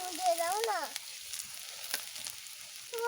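Dried red chillies and panch phoron sizzle and crackle steadily in hot oil in a pan, a close, even frying hiss with a voice speaking over it at the start and end.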